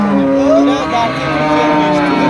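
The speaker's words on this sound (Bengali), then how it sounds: "আচ্ছা রহমত ভাই, আচ্ছা আরেকটি গাভী দেখতেছি, ডবল বডির গাভী, কি জাত মানের?" A large Jersey-Friesian cross dairy cow at a cattle market lets out a long, loud, sustained moo up close, with market voices murmuring underneath.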